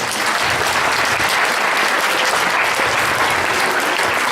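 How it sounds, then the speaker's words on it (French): Loud, dense applause from a gala audience fills the room steadily throughout, a continuous wash of clapping hands for a performer with no voices standing out. "Voilà, on applaudit fort Maïté."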